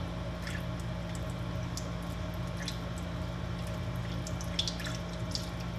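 Water running steadily from a tap into a stopped-up sink to dilute glow paint, a constant gentle rush with faint splashes and drips close by.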